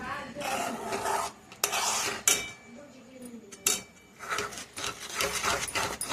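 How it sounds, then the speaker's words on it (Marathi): Egg bhurji is stirred in a pan with a spoon in several scraping, rasping bursts of metal against the pan, separated by short pauses, close by and moderately loud, with no voice over it. "व्यवस्थित अशी चांगली फिरून घ्यायची"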